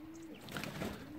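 A pigeon on an allotment coos with a soft, low, drawn-out call over a noisy outdoor background. The call is brief and faint to moderate, and no one speaks.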